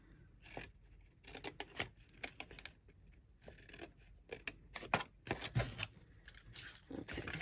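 Scissors cut through paper for a Christmas cracker treat box, giving close, quiet snips and rustles in irregular bursts with short pauses between cuts.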